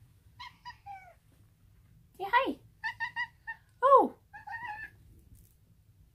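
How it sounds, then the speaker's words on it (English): Pet cats meow several times indoors, short high calls spread across a few seconds, with a person briefly speaking a few words between them. "my cats are gonna come say hi"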